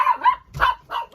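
Roxy the dog barks three times in quick succession, close and loud, with short gaps between the sharp barks.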